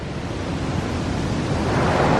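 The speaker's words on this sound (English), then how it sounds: "these waves getting high" High ocean waves surge onto a beach on the Ivory Coast in West Africa, a loud, continuous broadband roar of surf that swells slightly toward the end, with no voices.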